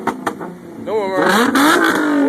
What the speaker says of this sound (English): He got the double dual exhaust.